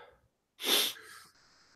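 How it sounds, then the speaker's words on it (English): One forceful nose blow by someone with a cold: a short, loud burst of breathy, snorting air, then a quieter trailing hiss. "he wants you to stop blowing your nose"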